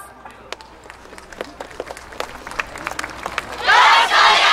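Crowd at a Kyoto Sakura Yosakoi street venue for a Kobe University yosakoi dance team: scattered claps and shouts build into a loud burst of cheering and applause near the end.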